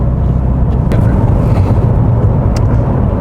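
A 2000 Alfa Romeo 145 with a 2.0 Twin Spark engine cruises along Kent country lanes, its steady engine and road rumble continuous and close, with no voices.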